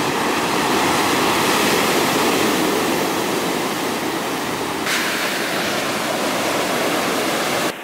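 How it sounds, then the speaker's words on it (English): Ocean waves surge and crash onto the shore at Hualien, Taiwan, a loud, continuous roar of churning surf and spray that holds steady throughout with no talking. "the higher up the waves actually come near me, and it feels like they're gonna hit me soon"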